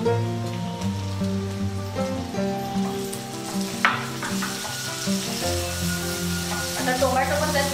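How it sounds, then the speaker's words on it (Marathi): Tomato frying with browned onions in a pan for a Maharashtrian kala chicken masala gives a steady, close sizzle with stirring scrapes, under background music and with no talk. "टोमॅटो पण त्यात व्यवस्थित परतून घ्यायचा, अगदी तो एकजीव झाला पाहिजे"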